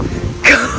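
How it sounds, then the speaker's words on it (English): A single short, harsh cough bursts out close and loud after a moment of quiet breathing and low background noise, from a runner on a long 150-mile run around Oahu. "Why did my cough crack?"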